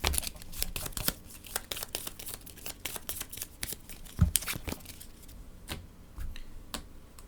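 Crisp papery riffles and slaps of cards being shuffled and handled, a quick run of sharp clicks repeating several times, close by with no voices.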